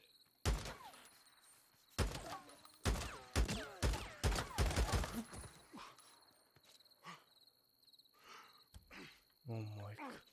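Gunfire rings out in a zombie shooter game, with sharp single shots and quick clusters of cracks early on, thinning to scattered, quieter reports later alongside game noise and brief speech.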